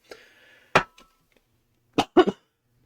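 A man coughs several times indoors, with a harsh single cough followed by a tight cluster of two or three more, close and moderately loud against an otherwise quiet room.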